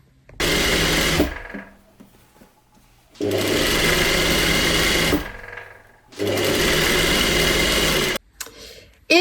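Close, loud sewing machine stitching the edge of a tailored jacket collar through several fabric layers, sewn in three steady runs of a few seconds each, separated by short quiet pauses.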